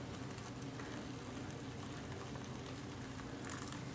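Hot water from a Jetboil SOL Titanium pours into a Mountain House beef stroganoff pouch, a steady close splashing and bubbling gurgle that runs unbroken for several seconds.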